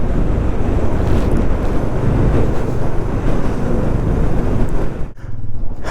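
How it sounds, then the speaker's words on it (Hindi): Strong mountain wind in Ladakh, on the road from Namika La to Leh, roars and buffets the microphone in a loud continuous rush, briefly easing for a moment before gusting back. "अभी थोड़ी कम हो गई हवा, लेकिन है काफ़ी"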